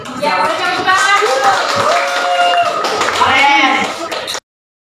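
A group of people clap their hands in a classroom, the steady clapping mixed with voices and chatter throughout before cutting off abruptly.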